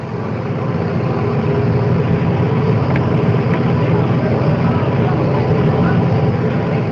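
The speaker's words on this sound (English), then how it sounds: "The sounds you hear are the sounds that surround the arrival of the plane and the automobiles." A dense, constant roar of aircraft and vehicles at Andrews Air Force Base as a plane and motorcars arrive, loud and unbroken throughout.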